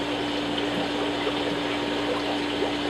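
Water runs steadily through a hose as four aquarium tanks are drained, a constant close trickling and gurgling flow with an even pump-like hum and no pauses.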